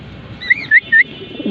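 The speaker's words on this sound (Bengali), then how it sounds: "দুই পেয়ার রেসার কবুতর সেল হবে" Three short soft coos from racing pigeons, evenly spaced, close by over a low background murmur.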